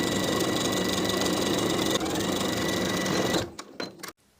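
A sewing machine runs steadily for several seconds, topstitching a jumper hem from the front of the garment. The close, even whir stops abruptly and is followed by a few short clicks and handling noises.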